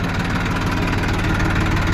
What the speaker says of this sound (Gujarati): ટ્રેક્ટર ચાલે છે આપણું પહેલાં ગેરમાં છે